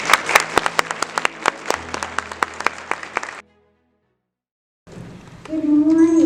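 Brisk nearby clapping at a school awards ceremony for students lasts a few seconds and then stops abruptly, followed by a stretch of silence and then a tonal sound rising near the end.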